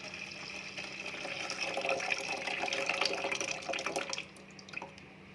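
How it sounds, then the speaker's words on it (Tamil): Tamarind water pours into a pot of fish curry, a steady close gush and trickle lasting several seconds before tapering off into a few faint drips. "இது கூட புளி தண்ணியை ஆட் பண்ணிக்கலாம்."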